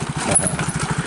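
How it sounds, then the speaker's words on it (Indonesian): Motorcycle engine on a new village road in Jampang during the dry season, a steady low rumble with rhythmic pulsing, fairly close, holding for about a second without clear approach or stop. "Ada motor mau jalan ke sini, nggak tahu kenapa itu berhenti ya."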